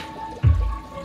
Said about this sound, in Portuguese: A água vem da bombinha lá, entra por aqui, desce.